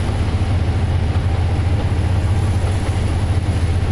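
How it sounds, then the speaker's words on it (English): An SD45T diesel locomotive in the Trainz simulator drones loudly and steadily, a heavy low engine rumble that holds without a break. "You can tell the SD45T is doing its thing because its engine's loud as heck"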